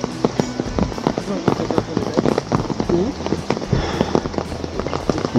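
Rain falls steadily at a hilly sightseeing spot in Cherrapunji, a dense, continuous patter with sharp crackling drops throughout, while people talk nearby.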